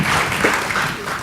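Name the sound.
audience applause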